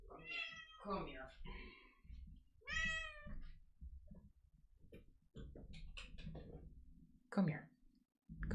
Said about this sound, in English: I'm gonna take care of this cat real quick.